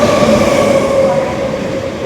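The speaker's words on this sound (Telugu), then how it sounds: "ఈ ట్రైన్ ఎట్ వస్తుంది వచ్చేసింది." A goods train, apparently hauling coal, rolls past close by with a loud, steady rumble of wagons and a sustained metallic whine throughout the short stretch.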